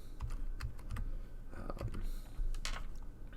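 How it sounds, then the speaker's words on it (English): Computer keyboard typing during prescription data entry, a run of quick, close key taps in irregular bursts over a low background hum, with no voices. "just type it in exactly the way it is"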